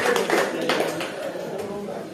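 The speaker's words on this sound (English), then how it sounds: "Give him a round of applause all the way from Poland." Audience clapping at a fight weigh-in for a Siam Warriors show in Cork, a scattered round of applause from a crowd under the buzz of voices, tapering off toward the end.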